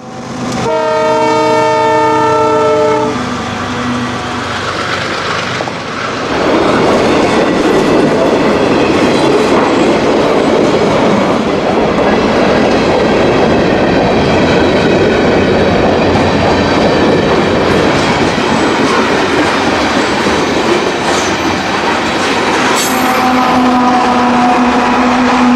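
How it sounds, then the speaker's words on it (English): A CPKC southbound freight train, number 260, comes out of the fog toward Ottumwa, sounding a loud chord horn, then rumbling past with heavy rolling and clanking before the horn sounds again near the end. "see southbound train 260 coming out of the fog towards Ottumwa"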